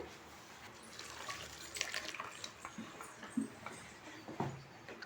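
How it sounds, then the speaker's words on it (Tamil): Water from boiled rice drains through a strainer into a sink, a faint close trickle and splash with scattered drips and soft knocks. "நான் வந்து ஒரு ஸ்ட்ரெயினர் வச்சு தான் வடிகட்டுறேன்."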